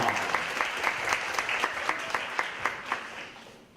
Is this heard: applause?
yes